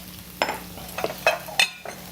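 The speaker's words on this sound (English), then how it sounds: "We're just sauteing up some caramelized onions" Caramelized onions sautéing in a pan in a TV studio kitchen, a low sizzle under repeated scraping stirs and utensil clinks against the pan, close and moderately loud, with no talk.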